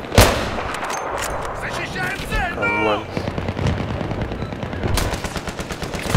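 Enemy gunfire in Battlefield 3 on the Tehran Highway map, loud bursts of automatic fire and heavier booms mixed with someone talking over them, with continuous shots rattling throughout.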